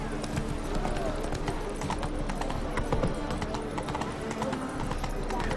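A horse's hooves clip-clop in quick, steady rhythm in the Witcher 3 video game, a continuous run of close, crisp hoofbeats over a low rumbling background.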